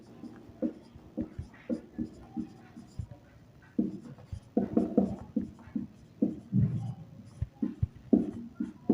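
A pen writes on paper while working a class 10 maths problem: quick scratchy strokes come in short rhythmic bursts alongside a person talking.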